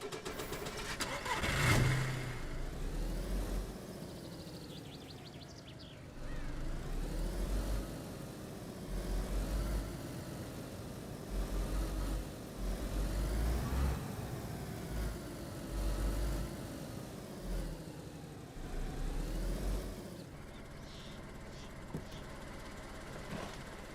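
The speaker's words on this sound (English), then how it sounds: "Start the engine." A car in the DayZ video game cranks and starts, then runs with rough idling and repeated revving surges over about twenty seconds, moderately loud and steady, with a brief sharp burst near the start.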